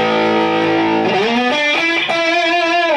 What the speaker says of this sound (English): Now we're going to go to the distortion 1.